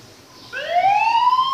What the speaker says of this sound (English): You see, the siren is on.